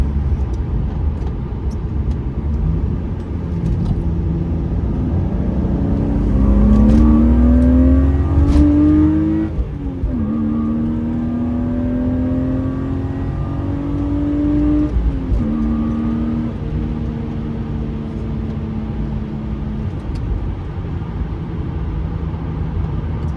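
BMW E36 328i Sport's inline engine revving hard under acceleration on a road, heard from inside the car, with rising gear sweeps, a brief dip at a shift and steady loud drone throughout.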